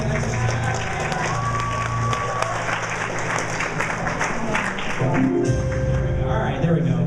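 A convention audience claps steadily in a hall, a dense, moderately loud patter of many hands that runs the whole time, with voices and a brief tone mixed in.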